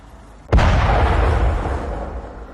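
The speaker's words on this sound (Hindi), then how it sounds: "इजराइल के बेत शेमेश में यह बड़ा धमाका हुआ।" A single loud blast at a defense factory in Beit Shemesh, Israel, hits with a sharp crack followed by a heavy rolling boom that slowly fades, heard alone without talking.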